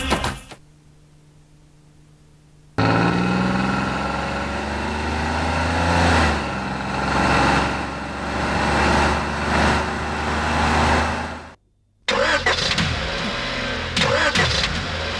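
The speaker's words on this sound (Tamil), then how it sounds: "வண்டியில ஏதோ ப்ராப்ளமா, ஸ்டார்ட் ஆக மாட்டேங்குது." A car engine turns over with a long stretch of steady cranking after a quiet gap, then cuts out briefly before cranking resumes, the motor never catching cleanly in a Tamil television drama scene.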